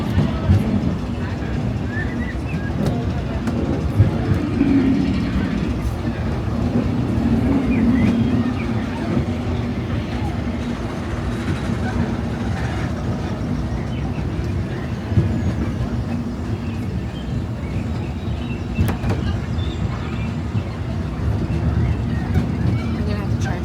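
Rumbling ride aboard the Disneyland Railroad on its Grand Circle Tour, with a steady low rolling drone of the train cars and faint clatter throughout, and people talking quietly in the background.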